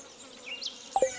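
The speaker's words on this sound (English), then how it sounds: "but it's bees" Bees buzzing in a video game: a faint, thin drone that rises and wavers, closing with two brief, louder buzzing swells, with no talking.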